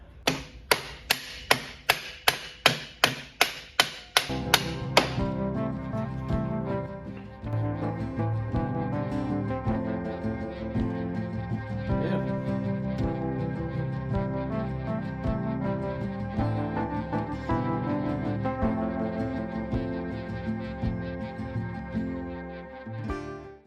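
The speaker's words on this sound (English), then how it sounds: "If in doubt, hit it with a hammer." About ten sharp hammer strikes land on a mill part in a quick, even rhythm, then give way to a sustained, ringing, tonal sound that continues to the end.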